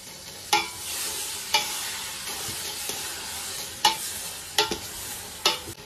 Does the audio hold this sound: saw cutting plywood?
no